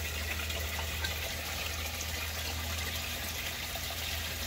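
Water pours steadily into the 4-inch stilling well of an aquaponics radial flow settling tank on a 100-gallon fish tank setup, a constant close gushing rush with a low pump hum underneath.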